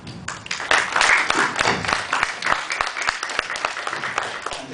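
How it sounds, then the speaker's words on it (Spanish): Audience applause at a Spanish-language law lecture welcoming an international associate of Holland and Knight, Washington, D.C.; dense clapping with sharp individual claps, steady and fairly close, with some talk mixed in. "para quien pido un fuerte y caluroso aplauso."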